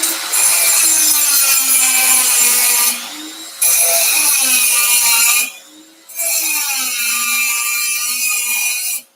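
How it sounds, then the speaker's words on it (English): Angle grinder grinding a U-shaped groove into a weld on a tractor, loud continuous abrasive whine in three long passes separated by brief pauses, with no talk. "I'll take my grinder, kind of grind in a little U groove in there"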